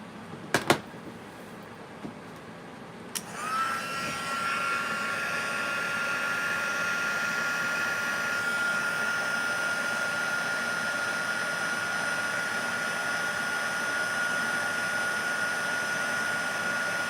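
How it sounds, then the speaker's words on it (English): Heat tool heat-setting embossing powder on a card, switching on after a few handling clicks and then blowing as a loud, steady whooshing hiss with a faint whine that runs on to the end, with no talking. "we are going to heat set that with our heat tool"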